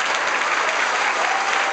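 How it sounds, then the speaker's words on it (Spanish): Sustained, loud applause from a crowd paying tribute to a centenarian queen of a neighbourhood street festival at night, steady dense clapping throughout with no voices on top. "Ella merece un minuto de los más fuertes aplausos que llegan al cielo."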